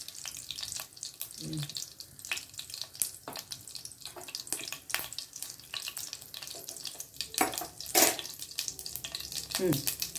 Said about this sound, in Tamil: கடலப்பருப்பு ஜீரகம் பெருங்காயமா வெடிக்கிட்டோம்